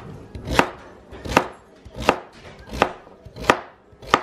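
A knife chops through sweet potatoes on a cutting board in six evenly spaced, crisp thuds, close and clear with no talking.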